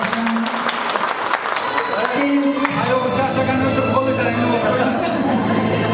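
An audience applauds a couple at an Uzbek event, with loud, steady, continuous clapping from a crowd and a sustained musical tone running under it throughout.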